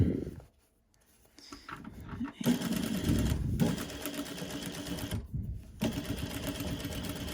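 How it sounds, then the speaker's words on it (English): A sewing machine stitches over elastic on a fabric face mask, whirring loudly in steady runs broken by two short pauses, close up with no talking. "you go over a couple times over that elastic, give it a nice strong stitch"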